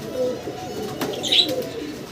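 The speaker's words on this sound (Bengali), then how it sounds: "ভিডিও স্ক্রিনে দর্শক আমরা খুব সুন্দর এক জোড়া কবুতর দেখতে পারতাছি।" A pair of pigeons kept by a pigeon seller gives soft, low cooing, fairly faint and intermittent against quiet background noise, with a brief higher chirp partway through.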